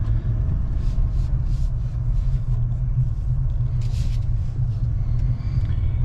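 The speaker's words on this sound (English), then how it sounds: "Let's put it in drive and let's get where we're going. It's got great pickup." A 2021 Jeep Gladiator Mojave pickup pulling away and accelerating, heard from inside the cab as a loud steady low rumble of engine and road noise, with faint rattles above it and no talking.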